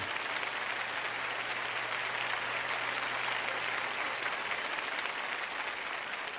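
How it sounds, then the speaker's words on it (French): A church congregation applauds during a French-language sermon, dense sustained clapping from many hands at an even, fairly loud level for the whole stretch, with a low hum underneath. "Vous n'êtes pas enthousiasmé, mais vous applaudissez au moins."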